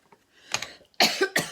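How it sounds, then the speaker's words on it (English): A person coughs a few times, short harsh bursts with brief gaps, close and fairly loud in a quiet room while making garden tool cards. "Oh, I'm so sorry about coughing."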